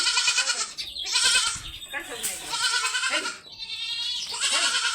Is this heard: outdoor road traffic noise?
no